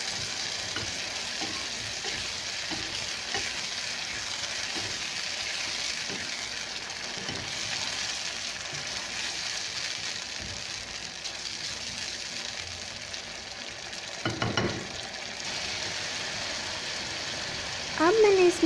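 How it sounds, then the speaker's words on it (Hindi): Masala spices cooking with yogurt in a pan, a constant broad sizzle and hiss with soft stirring, a brief clatter near the end and someone speaking over it. "अब मैं मसाले को उस वक्त तक कुक करूँगी जब तक दही जो है वो खुश्क ना हो जाए।"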